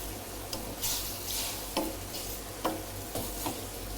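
A utensil stirs Colombo curry with vegetables in a pot, giving soft scraping strokes every second or so over a steady low sizzle, close and fairly quiet with no voices.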